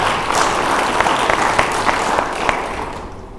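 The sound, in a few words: audience applause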